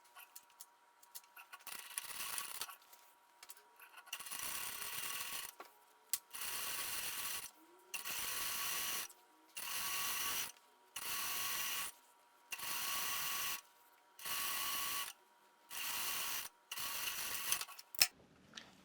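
A sewing machine stitches a seam on a dress in short repeated bursts, each lasting about a second with brief pauses between, and its steady mechanical whir is close and clear.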